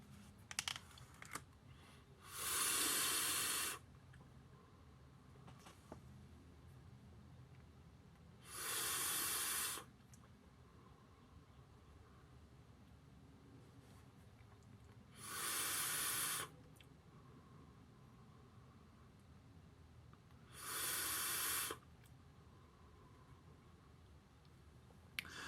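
Four long draws on a Gaia RDTA atomizer run at about 105 watts, with the upper airflow partly closed and the bottom airflow fully open. Each gives a steady airy hiss lasting a second or two, evenly spaced with quiet gaps between, and no one speaks.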